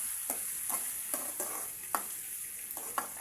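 Sesame curry base with ginger-garlic paste fries in a pan, a soft continuous sizzle broken by repeated scraping strokes of a spoon stirring the mixture at a steady rhythm.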